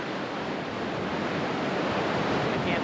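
Dettifoss waterfall roars as a steady, dense, loud wash of white noise heard from the upper viewing platform, unbroken and without any voices.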